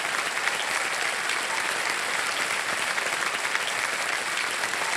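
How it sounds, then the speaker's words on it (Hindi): Studio audience on a televised quiz show applauds a contestant, dense and loud clapping that fills the whole stretch at an even level without any speech. "तालियां बजती रहें इनके लिए।"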